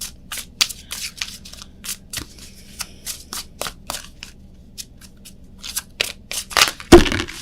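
Tarot cards from a Power of Surrender deck are shuffled and drawn, giving a string of crisp, close papery riffles and flicks in quick irregular bursts, ending with a louder thump as cards are set down.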